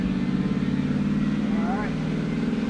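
A supercharged Hemi Dodge Charger engine pulling hard, a loud, steady low-pitched roar with a strong droning hum and a brief whining rise partway through.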